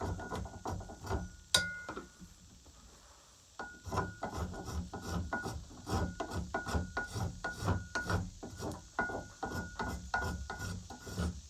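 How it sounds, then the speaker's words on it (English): A spokeshave takes rhythmic rasping strokes across the top face of a wooden part, close and crisp with a brief pause early on. "I'm just using my spoke shave to take that, to clean it up a little bit."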